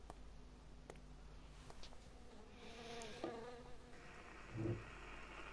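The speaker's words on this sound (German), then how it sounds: "Wieso hat er eine Biene im Glas?" A bee trapped in a jar buzzes faintly and continuously in a horror video game, a thin drone that swells briefly near the end over a quiet ambient background.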